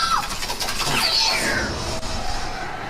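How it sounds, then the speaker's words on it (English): Riders on the Incredicoaster roller coaster at Pixar Pier shriek together, a sustained, loud wash of screams over a roaring rush of track and crowd noise. "I just could just sit there all day and just hear the screams and listen to the screams."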